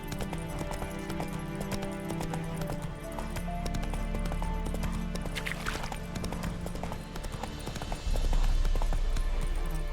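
Roach the horse gallops in The Witcher 3 video game, steady clip-clop hoofbeats running throughout over a dense game soundtrack and ambience, with a brief whinny and the hooves growing louder near the end.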